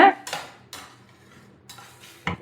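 Tomato paste mixed into onions in a metal pan: a few distinct clinks and scrapes of a spoon against the pan, spaced out over a quiet background, with no voices.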